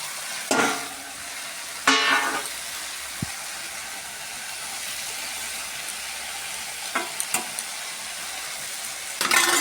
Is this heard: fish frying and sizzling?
yes